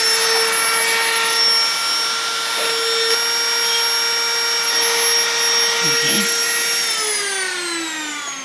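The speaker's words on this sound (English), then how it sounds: "Now I'm very simply just going to route out the cavity" A wood router steadily routs a 6 mm deep cavity outlining a camera. Its loud, even motor whine carries on throughout, and the pitch sags near the end as the cut winds down.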